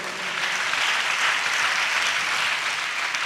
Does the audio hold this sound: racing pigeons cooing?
no